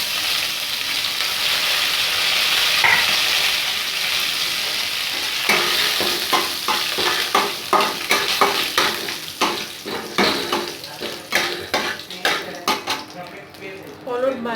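Curry leaves hit hot oil in a pan for oats upma, first a loud continuous sizzle, then rhythmic spoon stirring and scraping against the pan over the ongoing frying.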